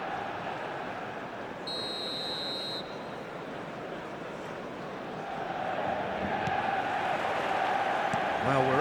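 Dense stadium crowd roar before kickoff in the eFootball video game, a steady wash of voices that swells louder toward the end, with a brief whistle-like tone early on and chanting beneath.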